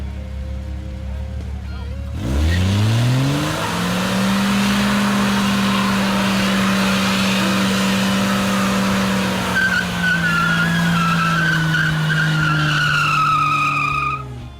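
A Chevelle does a burnout: the engine roars up sharply after a quiet start, then holds a loud, sustained drone while the tires squeal in a rising, wavering screech toward the end.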